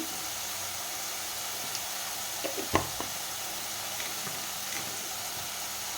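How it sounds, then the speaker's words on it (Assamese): Onion paste and turmeric sizzle steadily in a wok as they are stirred and fried, a constant broadband hiss with a few soft scraping knocks near the middle. "এইখিনি লৰাই ভালকৈ ভাজি ল'ম।"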